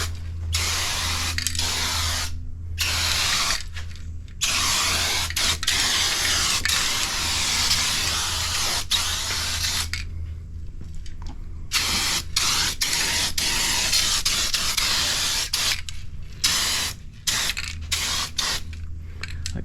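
Rustoleum Turbo undercoating is sprayed from an aerosol can under a Suburban, heard as loud close hissing bursts of varied length broken by short silent gaps, over a low steady background hum.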